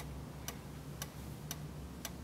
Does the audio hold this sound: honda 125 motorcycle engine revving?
no